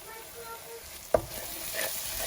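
Masala spices (chili powder, coriander, turmeric) frying with softened ingredients in a pan for misal, with steady low sizzling, a sharp clack of a utensil partway through and stirring scrapes after it.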